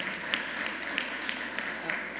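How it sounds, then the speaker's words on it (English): An audience applauds at a governor's bill-signing event for SNAP reform legislation, a steady, diffuse patter of clapping heard from a moderate distance. "let's give all of our partners a round of applause"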